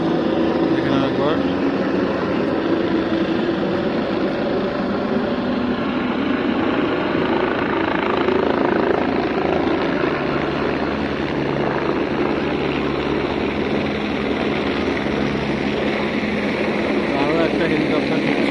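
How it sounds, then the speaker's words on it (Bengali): A helicopter approaches the Kedarnath helipad with a constant loud rotor and engine roar that does not let up, while people talk over it. "আরও একটা হেলিকপ্টার ঢুকছে।"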